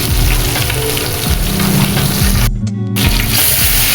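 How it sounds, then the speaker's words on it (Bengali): Spice paste for hilsa pulao fries loudly in a pot, a dense close sizzle with scraping as it is stirred, briefly cut off before resuming. "এবার মশলাটা কষানো শেষ"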